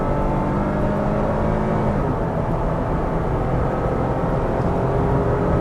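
A 2020 Nissan Frontier PRO-4X pickup accelerating hard up a highway on-ramp, heard from inside the cab as a steady, loud engine drone with road roar that holds throughout.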